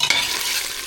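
Garlic sizzles in butter in a pan alongside tiger prawns and mushrooms, a bright close-up crackle with a brief clack of stirring at the start and end.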